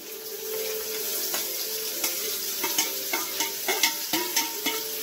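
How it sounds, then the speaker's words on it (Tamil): Small shallots and onions fry in a pan with a steady, fairly loud hiss, and light clicks and scrapes of a spoon stirring them come through more often toward the end. "சின்ன வெங்காயம் நல்லா பொன்னிறமாக பொரியணும், அதை வதக்கணும்."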